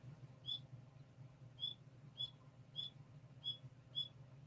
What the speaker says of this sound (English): Those birds sound different today, don't they?